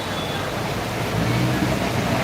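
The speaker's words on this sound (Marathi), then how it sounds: "जबरदस्त पाणी वाहत आहे" A continuous rush of floodwater flowing down a street in Ghatkopar, Mumbai, after a cloudburst, broad and steady, swells slightly louder midway as the torrent surges past nearby.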